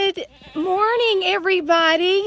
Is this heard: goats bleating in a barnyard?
yes